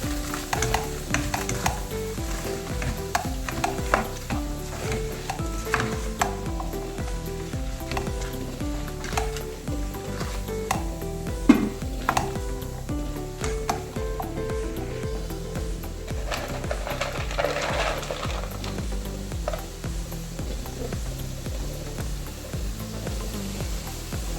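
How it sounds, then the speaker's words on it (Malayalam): Five Kashmiri chillies and five dried red chillies sauté in a pan for butter egg curry, giving a constant crackling sizzle with occasional stirring clicks beneath steady background music. "ഇതിലേക്ക് ഒരു 5 കാശ്മീരി ചില്ലിയും 5 നമ്മുടെ സാദാ വറ്റൽമുളകും നന്നായിട്ട് വഴറ്റാം."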